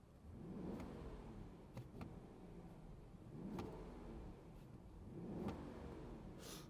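A Brabus Rolls-Royce Cullinan's V12 engine idles steadily at a low, even rumble, with a few faint clicks and brief knocks over the continuous hum.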